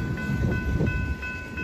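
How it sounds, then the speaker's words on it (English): A train rolling down a snowy siding, a close, steady rumble with faint metallic ringing tones, continuous and without talk. "This is the first train down the siding yet today."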